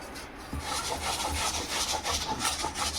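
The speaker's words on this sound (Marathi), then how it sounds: "आता ही सगळी बटाटे मी अशाच प्रकारची किसून घेते" Raw boiled potatoes are rubbed across a kitchen grater for fasting-style sabudana chakli dough, making a steady, close scraping rasp of repeated strokes with no talking.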